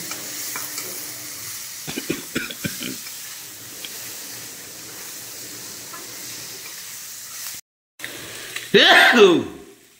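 Halved boiled eggs dropped into a pan of spice mix in a home kitchen give a loud burst of sizzling frying near the end, after quieter scattered clinks and stirring.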